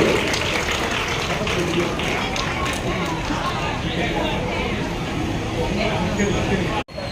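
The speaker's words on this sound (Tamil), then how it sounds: "அவர்கள் அனைவரையும் அன்புடன் உங்களின் பலத்த கரகோஷத்தோடு" Audience applause at a gathering welcoming writers from Tirunelveli, a dense wash of clapping from a large crowd that holds steady throughout, with a brief dropout near the end.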